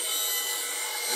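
A bowl gouge pressed against a sharpening grinder makes a continuous bright, hissing grind, steady and close for the whole moment.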